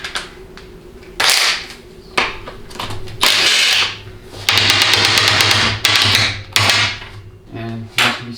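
Power tool bursts loosen a stubborn 15mm nut on the shift selector linkage of a 700R4 automatic transmission, coming in several loud, short runs of whirring and rattling separated by brief pauses.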